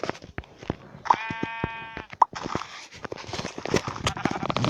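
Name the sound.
sheep bleating in the video game Minecraft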